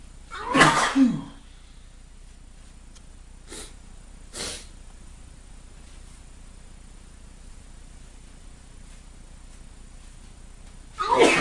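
A man with an allergy sneezes, a forceful sneeze at the start and another at the end, with a couple of shorter bursts between them and quiet room noise in the gaps.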